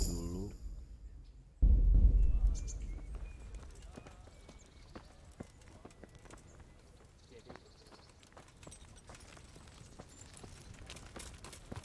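Horse hooves clip-clopping in the medieval video game Kingdom Come: Deliverance, a burst of heavier hoofbeats followed by a steady light rhythm of steps, with voices talking over parts of it.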